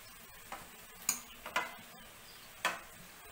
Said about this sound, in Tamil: நம்ம இந்த செஞ்சு வச்ச இடியாப்பத்தை போட்டு கிளறிடலாம்